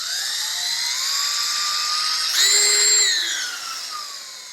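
A Bauer 20V lithium cordless 1/2-inch drill whines at high RPM, holding a steady tone that surges higher mid-run, then eases back down, loud and close with no talk.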